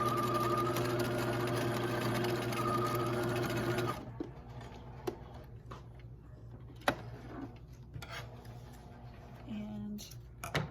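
A sewing machine runs steadily for about four seconds while stitching a zigzag stitch on a romper, its motor hum loud and continuous. It then stops, leaving quieter handling clicks and faint movement.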